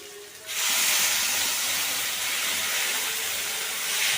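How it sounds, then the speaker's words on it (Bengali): Tomato paste hits a hot pan for a meat curry and bursts into a loud, close, steady sizzle that starts abruptly after a quiet half second and holds evenly to the end. "এরপর আমরা দিয়ে দেবো এটা টমেটো বাটা।"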